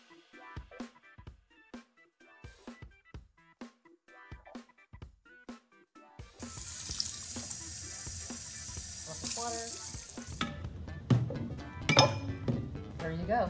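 Water runs from a sink tap onto a hot glass bottle being shocked cold for cutting wind chimes, a steady broadband rush from about 6 to 10 seconds after scattered clinks and taps, with sharp cracks and ringing clinks near the end.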